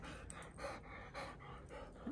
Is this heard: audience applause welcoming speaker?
no